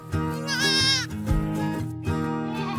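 A baby goat lets out a clear, quavering high bleat near the start, followed by a softer, shorter call later, both over continuous music.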